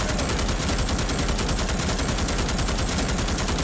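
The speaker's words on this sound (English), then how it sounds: "It makes sense, it's a giant machine gun" A giant machine gun fires nonstop in Starship Troopers: Extermination, a loud, fast, unbroken stream of heavy shots with no pauses.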